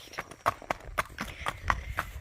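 A 12-year-old 15.3-hand Tennessee Walking gelding is ridden, its hooves clip-clopping in a steady, even rhythm of distinct close footfalls with no voices over them.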